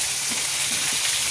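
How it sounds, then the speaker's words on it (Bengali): Fish heads fry in a pan with onion, ginger and garlic, a steady dense sizzle that holds even throughout, close and alone, with a few soft stirring knocks underneath. "পেঁয়াজ রসুন মাছের মাথা একসঙ্গে ভেজে নিচ্ছি"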